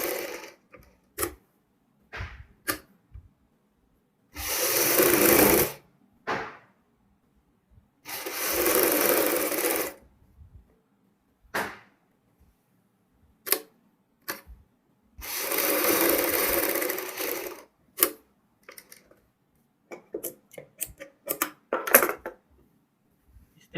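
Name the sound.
sewing machine stitching patch work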